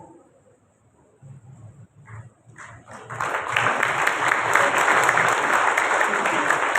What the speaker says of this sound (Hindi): आप सबके भरपूर तालियों में फादर नासर विलियम